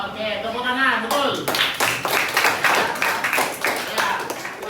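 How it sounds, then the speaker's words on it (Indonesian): A sixth-grade classroom of pupils breaks into group clapping during a religious studies lesson on zakat, a steady patter of many hands close by that follows a brief stretch of talk. "Oke, tepuk tangan, betul."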